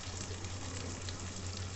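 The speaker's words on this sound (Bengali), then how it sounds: "এবার ভালো করে কষে দিতে হবে সমস্ত মশলা দিয়ে" Spices sizzling and being sautéed in a pan while cooking murg pulao, a steady close frying hiss with soft crackle and a low background hum.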